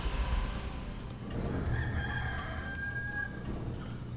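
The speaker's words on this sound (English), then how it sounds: "what does a rooster mean?" A rooster crows to mark morning in the Warcraft III Reforged video game, a single drawn-out cock-a-doodle-doo rising over a steady ambient game background at moderate loudness.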